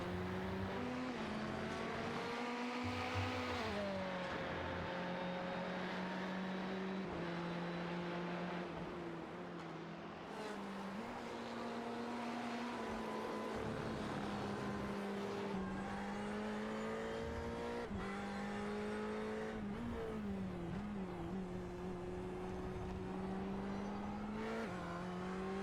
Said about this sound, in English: It is a beautiful sounding car.